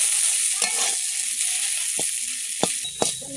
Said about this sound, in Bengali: সজনে পাতা একটু তেল বেশি দিচ্ছি।